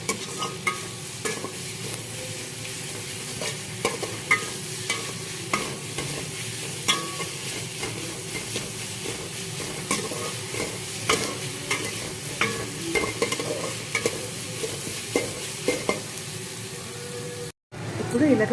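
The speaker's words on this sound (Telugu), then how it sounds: "బాగా ఫ్రై చేసుకొని టమాటా మగ్గించాలి బాగా." Onion, green chillies and tomato sizzle in oil for a chickpea curry, with repeated close scrapes and clacks of a spoon stirring the pan over a steady frying hiss; a brief dropout near the end.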